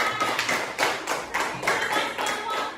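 Classroom clapping from a group of students, a quick irregular patter of claps rising and falling in small bursts, close and moderately loud.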